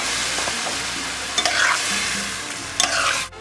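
White wine hits a hot pan of peppers and tomatoes for a seafood enchilado, a loud, broad sizzling hiss that holds steady with a couple of brief clinks, then cuts off sharply at the end.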